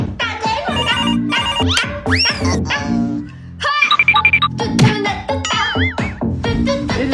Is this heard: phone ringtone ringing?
yes